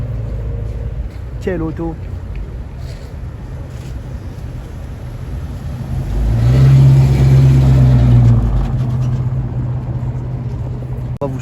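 A Ford Mustang drives past on a city street, its engine swelling to a loud, close roar for a couple of seconds midway before fading, with people talking nearby throughout and other street traffic in the background.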